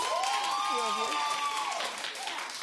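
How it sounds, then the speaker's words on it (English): Studio audience on a daytime talk show breaks into steady clapping that fills the room, with a voice rising over it and the crowd noise easing slightly toward the end. "clap if you think that's a brilliant idea"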